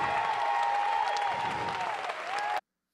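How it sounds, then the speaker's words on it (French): Audience at a TEDxMansfield 2018 talk applauding, dense sustained clapping from a large crowd that holds steady for a few seconds before cutting off abruptly. "J'aimerais bien qu'on les applaudisserait fort"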